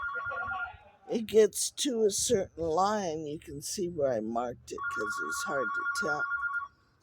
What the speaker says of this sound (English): that's the phone next door